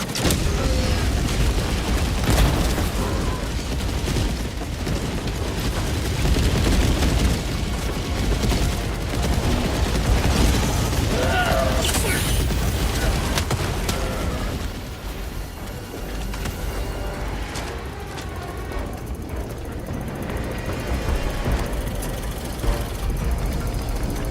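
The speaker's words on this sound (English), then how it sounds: "Orbital barrage incoming." Orbital barrage in the game Helldivers 2: a continuous, heavy stream of deep booming blasts and crackling impacts rolls on for the whole stretch, loud and close, easing slightly midway before surging again.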